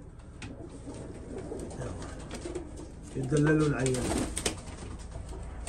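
Iraqi pigeons in a loft in Europe coo in a short, loud, throaty burst midway, set against a busy background of fluttering and rustling, while someone talks over parts of it.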